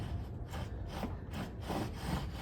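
A bow drill spindle rubs back and forth on a crape myrtle fireboard with light downward pressure, making a rhythmic raspy wooden sawing sound, close and steady, about two strokes per second.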